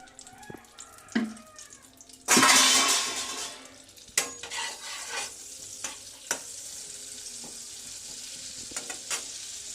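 Butter melting in a little white oil in a hot wok gives a sudden loud sizzle that swells and then settles into a softer crackle, with a few sharp clinks and taps from a utensil afterward.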